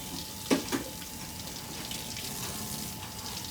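A tap runs steadily during a surgical arm scrub, a soft continuous stream of water with a couple of brief splashes or knocks early on.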